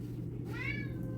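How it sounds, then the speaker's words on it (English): A cat meows once, a short rising-falling call begging for tuna, heard close in a home kitchen over a steady low hum. "this cat is going to be begging for this tuna for the rest of the time being"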